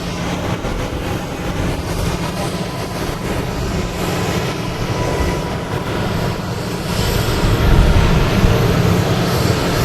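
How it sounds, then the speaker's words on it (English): Planes take off at Boston Logan Airport on a hot afternoon, a loud, broad roar of jet engines that swells slightly toward the end, heard alone without talk. "these planes are not getting off the ground that quick at all"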